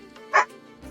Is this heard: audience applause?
no